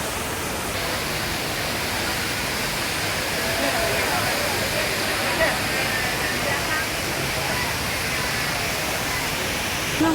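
The Jewel indoor waterfall at Singapore airport, a constant loud rush of falling water with faint voices mixed in underneath.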